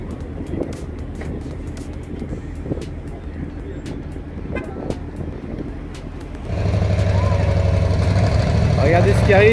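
A Ford Mustang GT 350 rolls into a circuit paddock after a parade at a Mustang gathering. Its engine idles low, then swells into a louder, steady rumble as the car comes closer.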